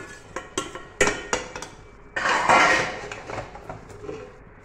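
A spoon stirs masala in a cooking pot for mutton tinda curry, with sharp metallic clinks and scrapes at first, then a longer rough scraping stretch that fades to softer stirring, close up with no talking.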